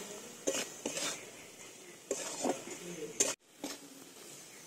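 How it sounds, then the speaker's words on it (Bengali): A spoon works a spice paste of cumin powder, coriander powder and salt around a frying pan for an egg and potato dish, with close scraping strokes, metallic clinks and a faint sizzle in uneven bursts. "এই মশলাটাকে তেল ছাড়া পর্যন্ত একটু কষাবো"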